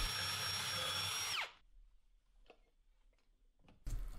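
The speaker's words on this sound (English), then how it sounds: "I had to actually drill through this post completely" A power drill bores through a wooden staircase post during railing installation, whining loudly and steadily for over a second before spinning down, followed by faint shop noises and a brief burst of the drill restarting at the end.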